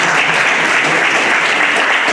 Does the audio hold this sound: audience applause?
yes